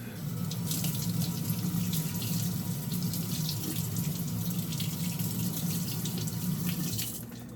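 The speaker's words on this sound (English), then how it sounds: "So then you have to rinse it off." Tap water runs steadily into a sink as very fatty raw fish for sashimi is rinsed, a continuous close splashing rush that stops near the end.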